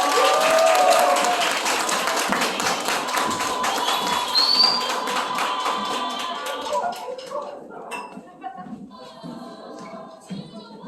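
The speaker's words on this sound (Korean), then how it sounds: "박수 주세요." An audience of youth at a church summer retreat claps loudly, with cheers and voices mixed in. The applause fades over several seconds, leaving scattered claps and quiet chatter.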